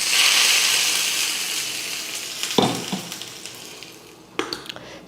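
Hot oil tempering with curry leaves is poured into chutney, a loud, bright sizzle that starts strong and slowly dies down, with a few clinks of a pan or spoon.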